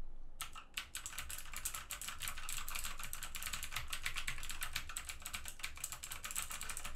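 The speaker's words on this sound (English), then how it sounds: "So of course, because we came to the switches, let's start the sound test." A Modecom Volcano keyboard with Outemu Blue clicky switches is typed on quickly and steadily, its sharp, dense clicks close and fairly loud, running alone for several seconds after a short pause at the start.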